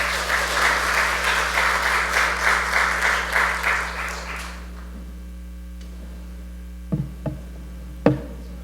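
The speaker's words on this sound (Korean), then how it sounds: "박수 한번 주세요" Audience applause at a church retirement and installation service, steady clapping for about four seconds that then fades to a quiet hall with mains hum and a few faint knocks.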